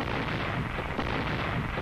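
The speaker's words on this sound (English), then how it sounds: "Batteries from Corps artillery laid down heavy interdiction and harassing fire on the enemy supply" Corps artillery batteries firing harassing and interdiction fire on Guam in 1944, a dense continuous rumble of heavy booms with no clear gaps, loud and muffled like old film audio, with no talking.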